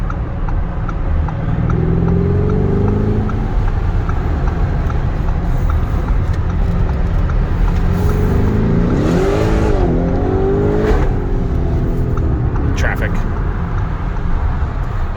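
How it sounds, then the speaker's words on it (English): A Lamborghini Urus with a 650-horsepower V8 pulls a U-turn on a street, and its exhaust rises and falls in loud revving swells from inside the cabin, building to a strong surge near the end over steady road noise. "this seems like a legit exhaust experience, because there is a 650 horsepower V8 under the hood right in front of me"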